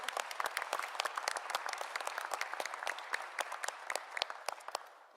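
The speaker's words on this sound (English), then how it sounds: "let's give a round of applause" Audience applause during a mayor's address, a sharp, distinct patter of individual claps from a modest crowd, lively and continuous before thinning out toward the end.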